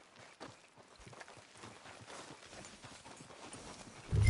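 Steady clip-clop of horse hooves walking at an even rhythm in the video game Red Dead Redemption 2, close and moderately loud, with no talking.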